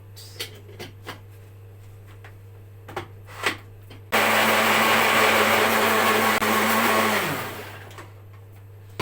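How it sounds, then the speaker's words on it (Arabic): After a few light clicks and knocks, a blender mixing liquid pizza batter roars to life at close range, runs steadily for about three seconds, then winds down. "تعالوا نضربها في الخلاط."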